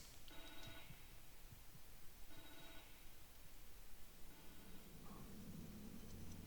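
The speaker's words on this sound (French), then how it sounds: "Le téléphone." Old-style telephone bell ringing in The Evil Within 2 video game, three distinct ring bursts spaced about two seconds apart over a low, throbbing ambient drone, fairly faint, with no talking.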